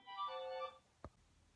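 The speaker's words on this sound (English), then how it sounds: "I can't tell you how many times my takes have been interrupted by this phone!" A phone ringing with a bright, tonal electronic ring that lasts under a second, followed by a short thud. It is quiet and close, with no talk.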